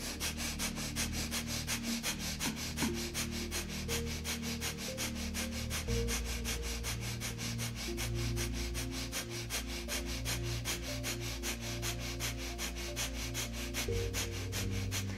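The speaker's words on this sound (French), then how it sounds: "vous êtes en train d'énergiser votre corps avec une respiration dynamique, rapide, de rapides inspires, de rapides expires" Rapid, rhythmic breathing through the nose during a yoga session, fast sharp inhales and exhales repeating steadily and evenly over a soft, low musical background.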